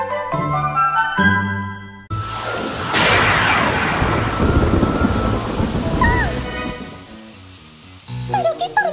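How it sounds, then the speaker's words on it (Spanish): Thunderstorm in a Spanish children's cartoon, a sudden loud crack of thunder rolling into a heavy rush of rain between stretches of plinking music, with a quick whistling swoop as the storm fades. "¡Pero qué tormenta tan fea!"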